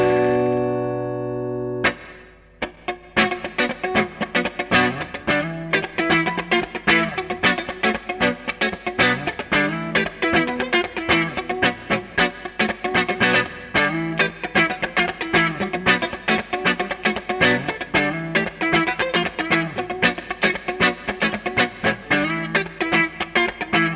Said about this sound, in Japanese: こういう一般的なリバーブの音も出せるよっていう感じで